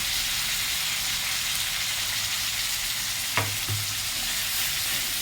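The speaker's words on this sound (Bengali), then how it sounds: "তারপরে একটু গোলমরিচের গুঁড়া দিয়ে একটু নাড়াচাড়া করছি" Spice paste with black pepper powder frying and being stirred in a pan, a loud, steady close sizzle with a single sharp spoon knock toward the end.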